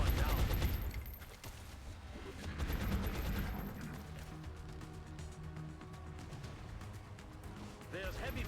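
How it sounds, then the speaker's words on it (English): Heavy gunfire in XCOM Enemy Within, bursts of rapid shots and impacts rattling through a battle, loud at first, then easing under a voice talking, with more blasts near the end. "There's heavy fire in this zone."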